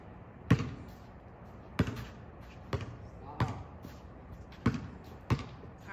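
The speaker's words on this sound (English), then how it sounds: "I feel like I can hear somebody playing basketball." A basketball being dribbled outdoors at a distance, six sharp bounces spaced roughly a second apart, faint against quiet background ambience.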